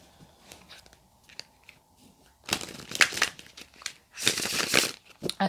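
Tarot cards being taken out and handled, with a crisp crinkling and shuffling rustle that is faint at first, then grows into loud, close bursts of papery crackle.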